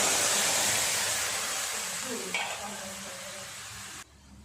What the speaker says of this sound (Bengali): দিয়ে দেব সিদ্ধ করে রাখা ডাল।